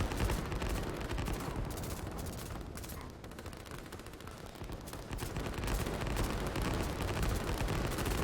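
Rockets fire and explode continuously across a battlefield in the strategy game Line War, a dense, loud barrage of rapid blasts and crackling impacts with a brief dip midway before surging again.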